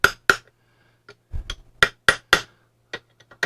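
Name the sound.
easing out Triumph TR2 overdrive brake ring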